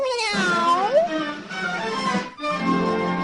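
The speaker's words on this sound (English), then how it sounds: "he heard a familiar sound. It was the secret meow." A cat meows repeatedly, with drawn-out, rising and falling cries close by, pausing briefly before another yowl.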